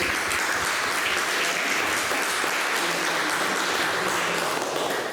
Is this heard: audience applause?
yes